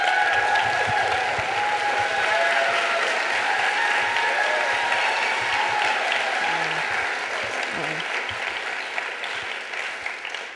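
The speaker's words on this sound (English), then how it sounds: "So give a big round of applause for Abel Torres." An audience at a storytelling event breaks into sustained applause, a broad, dense clapping that holds steady for several seconds and then slowly thins toward the end.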